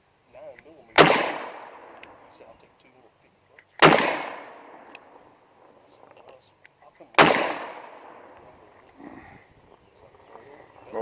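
Three loud, sharp gunshots from a Ruger GP100 revolver with a shorter barrel, evenly spaced a few seconds apart, each with a ringing tail that fades, close to the listener.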